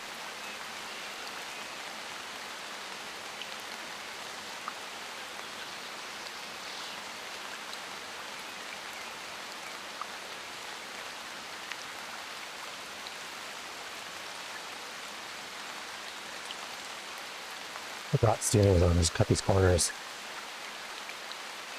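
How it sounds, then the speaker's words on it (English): Steady, heavy rain pours in the Zwift cycling game, a dense continuous hiss throughout, briefly interrupted near the end by a short burst of a man's speech. "It's pouring rain where I'm at."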